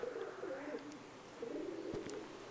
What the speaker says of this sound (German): anhand vom Sound würde ich jetzt sagen, ich werde Taube